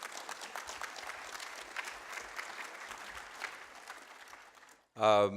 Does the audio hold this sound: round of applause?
yes